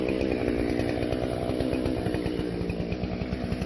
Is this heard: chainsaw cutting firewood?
yes